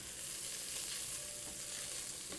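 Rice and other food fry in a pan with a steady, dense sizzle while being stirred, close and continuous with faint scraping, and no one speaking.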